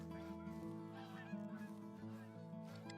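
A goose honks repeatedly in a hunting video game, a clear, nasal call sounding close and fairly loud over a steady background hum, with no speech.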